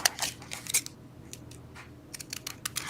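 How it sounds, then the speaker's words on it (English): Scissors snipping the border off a handmade paper card, a run of crisp, close cutting clicks in quick irregular bursts, with no talking. "And then I'm going to cut the border off."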